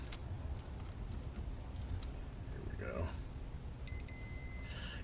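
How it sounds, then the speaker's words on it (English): A multimeter continuity tester chirps with a brief, thin, high beep while probing the wiring of a Uniden PC66 CB radio, faint against a low background hum and small clicks from the probes. "that's just me testing continuity"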